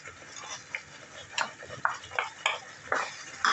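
Masala with coriander powder and tomato puree being sautéed in a pan for a soybean and potato curry, with a spoon scraping and clinking against the pan in short irregular strokes over a faint sizzle, close and moderately loud.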